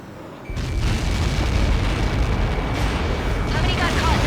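Massive explosion in the Ace Combat 7 video game as a Helios projectile strikes, a sudden loud boom swelling into a sustained roaring rumble that carries on for several seconds, with radio voices talking over it.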